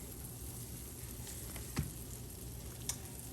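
Half a cup of butter melts in a pan for Southern cooking, giving a faint, steady low hiss with a couple of soft clicks from the pan.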